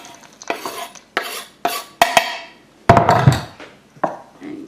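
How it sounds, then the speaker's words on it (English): Chopped Twirl chocolate stirred into melted ice cream in a bowl, with a spoon scraping and sloshing in repeated strokes about once a second, close and clear, with no talking. "Give it a good mix so it's all really well incorporated."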